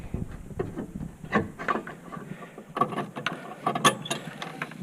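Jeep Grand Cherokee low-beam headlight bulb pushed and twisted counterclockwise out of its socket: close, scattered plastic clicks and scrapes in a steady burst, with a brief louder rattle toward the end and no talking.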